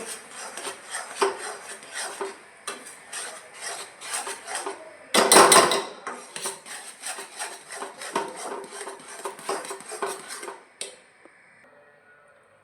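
Milk powder barfi mixture being stirred in a pan, with close, steady scraping and clinking of a utensil against the metal in uneven strokes, a louder rough burst midway, then fading to quiet.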